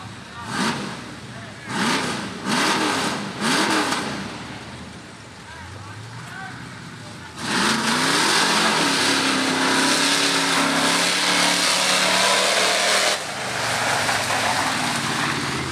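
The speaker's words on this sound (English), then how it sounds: "Sean Luke is driving the truck here" Truck engine revving hard in a county fair mud bog, first in short rising bursts, then a long loud roaring run with heavy spray and churn, while a voice talks over it.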